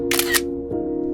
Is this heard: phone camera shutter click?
yes